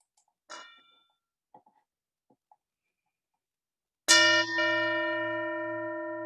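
A single bell is struck during a Sunday morning church service, ringing out loud and close after a stretch of near silence with a few faint knocks, then sustaining a long, slowly fading resonant hum.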